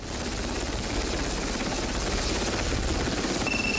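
A helicopter aboard an Arleigh Burke class destroyer thrums steadily and loudly for the whole stretch, a constant close rotor whirring with no voices.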